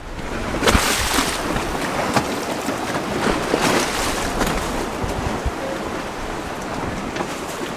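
Wind and waves at a sailboat's anchorage in a 20-knot southerly, a steady broadband roar of gusting wind buffeting the microphone with sloshing water beneath, loud and continuous with occasional sharper gusts.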